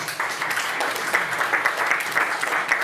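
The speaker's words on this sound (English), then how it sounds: "You can give yourselves a round of applause." Audience at a literary magazine launch event applauds itself, a moderate, continuous patter of many hands clapping indoors, fairly even in level with slight swells, no talk heard.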